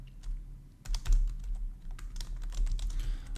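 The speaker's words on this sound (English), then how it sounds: "I already started typing and I just want to get it done" Rapid typing on a computer keyboard during a programming contest, close and clear, with irregular bursts of key clicks that grow busier after a brief quiet start, no talk.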